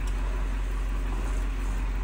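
A Type 1 conventional school bus engine idles just after starting, a steady, low rumbling drone with no voices over it.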